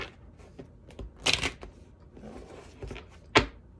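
Tarot cards riffled and shuffled in a few quick bursts, crisp papery flutters close by with short pauses between.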